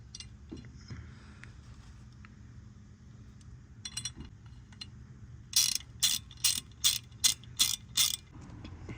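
Ratchet driving a T30 bolt on a 2006-2012 Ford Fusion front hub with the rotor fitted. Quiet handling clinks come first, then a burst of about seven loud, evenly spaced ratcheting strokes close by.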